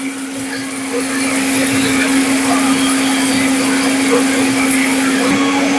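A 1500-watt steel bush blender runs on its high setting, giving a loud, steady motor whine with a strong constant hum that stays even throughout, with no talking.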